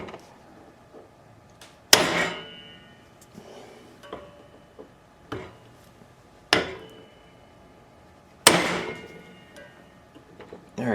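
Several sharp metallic blows, sparse and irregular, ring out in a quiet workspace; hammer strikes tapping a Mikuni carburetor into place on a Suzuki GS550, some louder, some gentle.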